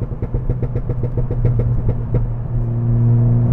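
A stage 2 Ford Fiesta ST engine accelerating, a close, throaty rasp with rapid firing pulses that climbs in pitch, then settles into a steadier droning hum near the end.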